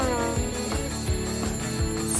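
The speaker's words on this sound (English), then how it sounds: "Another alarm!" An alarm clock rings steadily and insistently, a continuous metallic jangle filling the moment with no voices.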